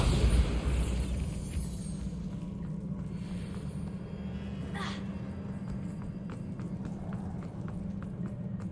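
A Bombarda spell blast goes off in the Hogwarts Legacy video game, a single sharp burst near the middle over a steady low rumble of game ambience, with faint clattering afterward.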